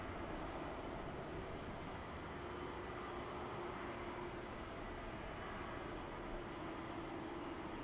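A Finnair Airbus A330 airliner at Amsterdam Schiphol Airport gives off a distant, steady jet engine roar, a faint broadband rush holding constant with no talk.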